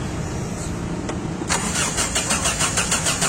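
Car engine cranking and catching during a driving school lesson in Sylhet: a rising start burst followed by a pulsing idle with a regular throb, close and fairly loud.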